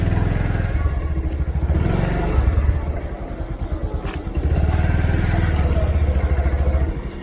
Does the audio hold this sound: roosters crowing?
no